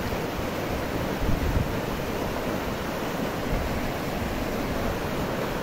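A great deal of floodwater rushes down toward the Gargalheiras reservoir in Acari, making a steady, broad roar that stays even throughout, with no talking.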